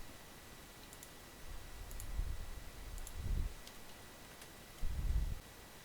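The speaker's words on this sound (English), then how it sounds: "So you've got to right click and save as." Computer mouse clicks while saving an image: faint, sparse single clicks over a steady quiet background, with a few soft thuds in between.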